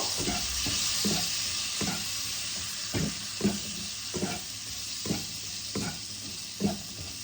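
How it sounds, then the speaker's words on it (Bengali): Curry leaves frying in a pan for poha pulao, a steady sizzle broken by regular scraping stirs about every half second, close and fairly loud with no talking. "এবার আমি কতগুলো কারি পাতা দিয়ে দিলাম। ভালো করে একসাথে ভেজে নেব।"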